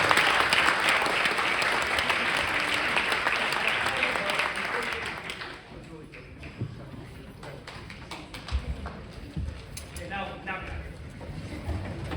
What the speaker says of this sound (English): one more round of applause as they leave stage